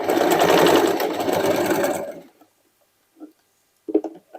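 A sewing machine runs a straight stitch on sweatshirt and denim scraps for about two seconds, loud and close, then stops, followed by a few soft handling clicks.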